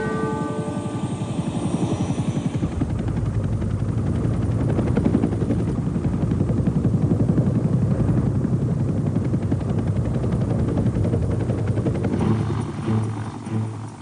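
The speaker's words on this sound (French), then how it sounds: "L'hélicoptère Bell UH-1 Iroquois, connu sous le nom de Huey" Rotor blades of a Bell UH-1 Huey helicopter beat loudly and continuously, a dense, thudding chop with a heavy low roar, steady for most of the stretch before easing off near the end.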